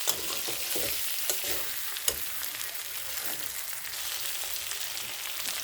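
Chicken curry frying in a pan for a home pulao meal, with broadband sizzling and hissing held steady throughout, plus occasional sharp spatter pops and faint stirring scrapes; close and continuous, with no voices.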